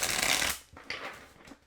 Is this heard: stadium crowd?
no